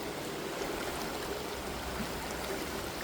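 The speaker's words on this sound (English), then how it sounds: "Pouring out of the drain. The road drain just there." Steady rushing water pours from a roadside road drain after heavy localised rain near a brook, a continuous broadband wash with no breaks, fairly close and moderately loud.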